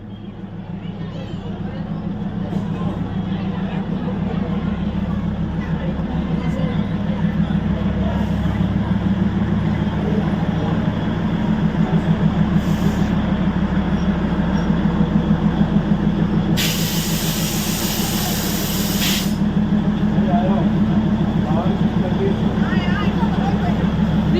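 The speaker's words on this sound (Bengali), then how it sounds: "এই ট্রেনটাতে আমরা এখন চাপবো, টয় ট্রেনটা।" The Darjeeling toy train rumbles steadily into a station platform, with a low continuous engine drone, a burst of hissing air brakes, and people talking nearby.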